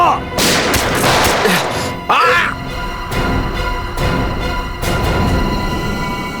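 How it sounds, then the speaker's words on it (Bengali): Gunfire in a Bengali CID crime drama: several sharp, loud bangs stand out one after another in a busy, dramatic mix, with a brief sweeping whoosh early on and a shouted voice nearby. "সিআইডি অফিসারকে গুলি করে দিলি?"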